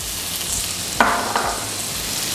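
Mixed vegetables and onions cook in a fried rice pan with a steady sizzle, broken by two short scrape-and-stir sounds about a third of a second apart, close by with no voices.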